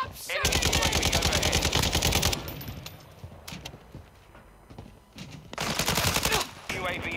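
Rapid automatic gunfire in the shooter game Warzone 2 comes in loud, dense bursts at the start and again near the end, with scattered single shots and quieter game sounds in between.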